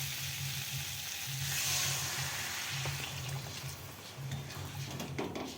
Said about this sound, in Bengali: আলুর সঙ্গে আমার মশলাটা খুব ভালোভাবে কষানো হয়ে গেছে, মশলা থেকে তেলও ছেড়ে দিয়েছে। এরপর আমি জল দিয়ে দেবো।